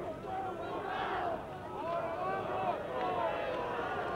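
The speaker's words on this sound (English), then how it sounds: "The crowd shouting Puma." Rugby crowd at a 1968 Wales tour match against Argentina B in Argentina, a continuous roar of many voices shouting a chant, fairly distant and steady, swelling slightly at moments.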